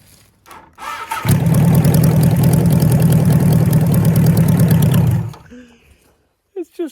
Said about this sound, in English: The engine is still bolted into its test bed from when I did its first start-up,